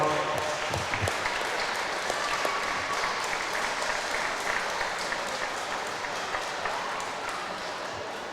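Sustained crowd clapping at a wrestling show for the wrestler Axel Fury, dense and even from start to finish, fairly loud, with scattered sharp claps standing out and no clear speech.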